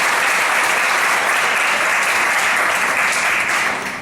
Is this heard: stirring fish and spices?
no